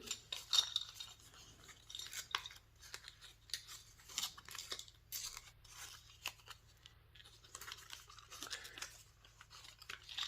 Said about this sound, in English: let's have a go taking out the packaging